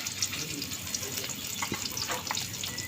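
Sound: raw spice paste frying in oil in a wok

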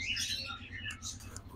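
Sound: green ringneck parakeets squawking

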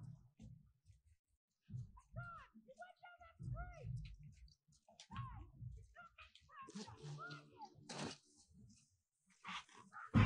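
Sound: dog barking in video game The Last of Us Part 2

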